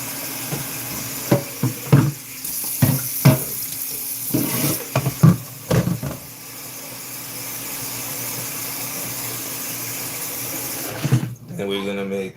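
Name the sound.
water running from a kitchen tap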